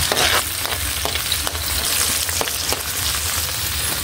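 Chopped garlic sizzles steadily in a hot pan, a close, continuous frying hiss with occasional crackles and stirring scrapes throughout, no voices present.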